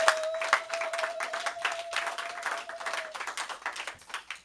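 Church congregation at a worship service clapping and acclaiming, steady rapid applause with scattered cheers at moderate distance, a sustained tone ringing beneath for most of the stretch.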